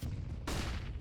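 A flashbang grenade bursting in the shooter game CS:GO, a loud rumbling blast that gives way to a second sharp bang with a bright, hissing wash over dense in-game noise.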